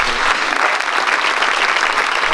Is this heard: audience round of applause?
yes